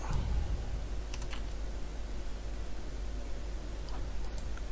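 Keys being typed on a computer keyboard while code is entered during Android app development, a steady run of light clicks under a constant background hum, no talking.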